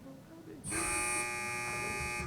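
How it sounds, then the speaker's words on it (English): A loud electronic buzzer kicks in after a brief quiet moment and holds steady as a sustained, harsh tone. "Teams, wait for the buzzer."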